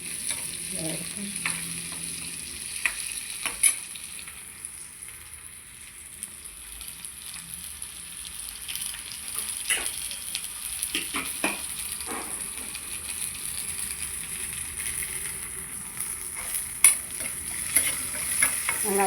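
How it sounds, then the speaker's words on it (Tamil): Chopped onions sauté in a pan for sambar, giving a steady soft sizzle broken by occasional scrapes and clicks of stirring. No voices are heard. "வெங்காயம் வதங்கிடுச்சு."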